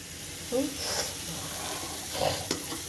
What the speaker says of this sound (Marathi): हे सर्व असं मिक्स करून व्यवस्थित घ्यायचं